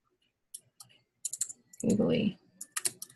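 A computer keyboard clicks in short, irregular bursts of keystrokes, close and fairly quiet, with a person's voice briefly heard partway through.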